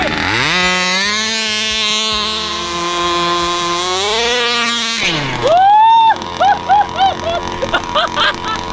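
Petrol-engine RC car running, its small engine holding a high, buzzing drone that then rises sharply and gives several short revving bursts, loud and close.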